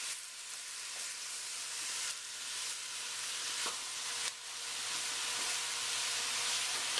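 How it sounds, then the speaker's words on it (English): Chicken cacciatore sautés in a pan with dried basil, making a steady, loud, close sizzle, with a few brief scraping knocks as the pieces are stirred. "Give that a good stir."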